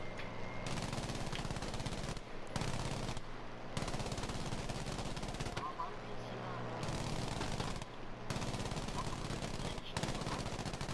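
Sustained automatic gunfire in the shooter game Battlefield 5, dense rapid bursts filling the clip with brief pauses, loud and continuous under occasional player chatter.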